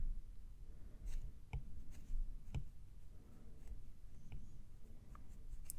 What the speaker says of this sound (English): When you use the side of your pencil, you'll get a broader stroke.